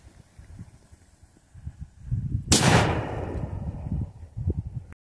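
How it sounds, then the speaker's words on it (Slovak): Krachman firecracker exploding outdoors, one sudden sharp bang midway with a rolling echo trailing off, over a background of low wind-like rumbling. "Takže, teraz tu máme túto petardu Krachman."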